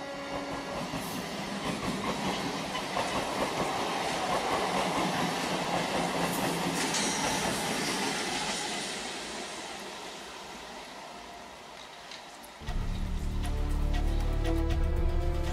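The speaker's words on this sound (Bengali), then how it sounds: "ট্রেন ঢুকছে" A train pulls into a station with a loud, steady rumble and rhythmic clatter of wheels on rails, some metallic squeal, fading slightly before a heavier low rumble takes over near the end.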